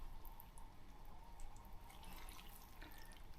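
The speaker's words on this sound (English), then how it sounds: "Get that broth over the rice noodles." Chicken pho broth is ladled over rice noodles, a soft continuous pouring and splashing of liquid with small drips, quiet and close.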